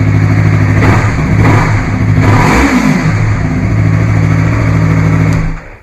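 A Yamaha R3 motorcycle engine runs loud and close after a battery recharge, a steady rumbling idle with a brief rev in the middle, then cuts off abruptly at the end.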